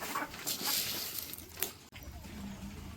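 Chickens cluck faintly nearby while being fed wheat, a few soft scattered calls against quiet background noise.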